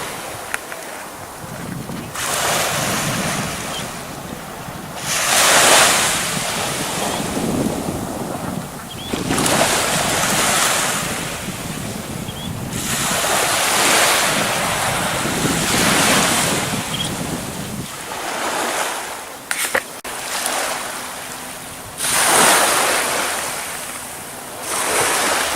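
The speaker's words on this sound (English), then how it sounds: "The way the water breaks, even when it's quiet." Waves break and wash repeatedly onto a shore in slow surges, loud and close, mixed with gusting wind rumbling against the microphone.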